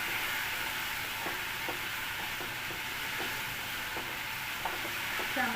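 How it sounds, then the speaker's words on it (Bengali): Ground spice paste fries in a pan with a soft, even sizzle, punctuated by light, regularly spaced stirring taps and scrapes. "সামান্য নাড়াচাড়া করে নিচ্ছি,"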